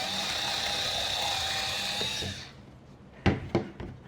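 Ryobi electric scissors run with a steady motorized whir that cuts off abruptly, followed by a few sharp handling clicks and knocks, close by with no talk.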